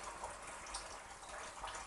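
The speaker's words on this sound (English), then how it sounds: "top up the meat now, the onions, with the boiling water" Steady rushing of boiling water poured into a pan of mince and onions, a continuous broadband gush without pauses, fairly close and even in level throughout.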